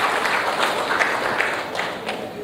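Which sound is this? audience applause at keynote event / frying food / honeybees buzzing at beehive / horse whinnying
audience applause at keynote event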